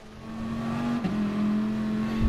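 Gran Turismo race car, a GR.3 machine at Autopolis, held at full throttle: a loud, steady engine drone with a brief dip near the middle before it resumes at constant pitch, no talk.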